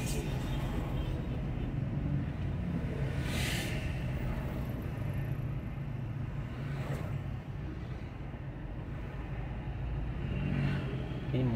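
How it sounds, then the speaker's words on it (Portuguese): Continuous rumble of cars and motorbikes passing on a busy São Paulo street, engines droning and occasionally revving, with a voice speaking briefly over the traffic noise. "É carro demais na rua"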